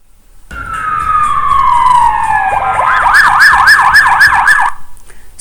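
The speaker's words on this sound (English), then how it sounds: "sound of ambulance siren" An ambulance siren sounds loud and close, first as a long falling wail, then switching to rapid rising and falling yelps before cutting off.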